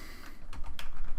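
Typing an nmap command in a terminal on a computer keyboard, a short run of quick close key clicks over a low background hum.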